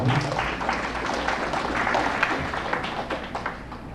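An audience applauds during the Calapan State of the City Address, a dense steady patter of many hands clapping, loud at first and tapering slightly over four seconds.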